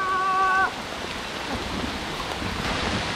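Dense, steady hiss of heavy rain pouring down during a bicycle touring trip, loud and continuous, briefly overlapped at the start by a short tonal sound.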